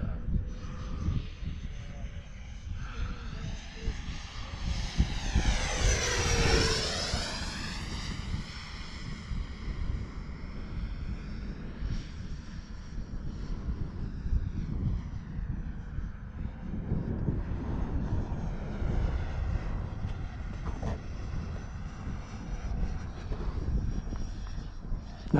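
A 90mm Viper RC jet flies at half throttle, its turbine-like whine rising and sweeping past in a close, loud fly-by, then settling into a steadier distant drone over wind noise, with voices talking nearby.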